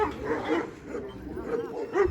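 Kangal dogs at a Turkish dog farm bark and yip in a loose, overlapping chorus, with whimpering mixed in, fairly close and continuous, with some voices faintly beneath.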